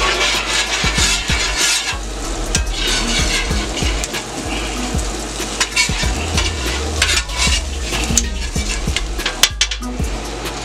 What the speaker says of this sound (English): Just a fried egg here.